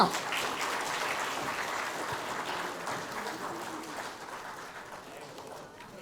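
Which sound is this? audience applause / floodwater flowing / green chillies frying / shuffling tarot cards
audience applause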